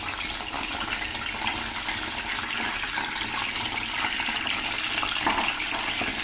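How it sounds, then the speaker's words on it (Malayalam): Aloe vera juice is poured steadily into oil in a pan, a continuous gushing splash that holds at an even level with no voices. "നമ്മുടെ കറ്റാർ വാഴ അതിലേക്ക് ഒഴിച്ചു കൊടുക്കുന്നുണ്ട്"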